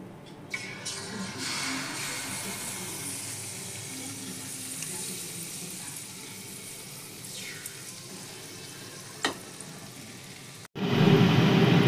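Malpoa batter frying in hot oil in a pan, a soft continuous sizzle with a few sharp crackles and pops, followed at the end by a sudden louder burst of bubbling.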